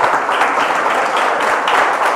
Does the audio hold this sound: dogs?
no